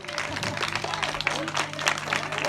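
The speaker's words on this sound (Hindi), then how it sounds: "जोरदार ताली" An audience at a school centenary celebration in Uttarakhand claps loudly, a dense burst of applause mixed with crowd voices and a speaker talking over it.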